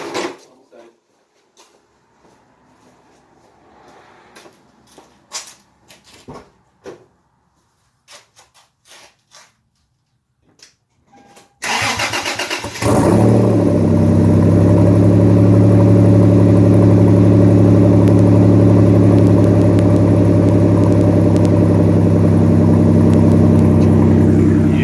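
Turbocharged Toyota Tacoma with a 5VZ V6 and 3-inch stainless exhaust cold-starts after a stretch of faint rustling and clicks, cranking briefly before settling into a loud, deep, droning idle that holds steady.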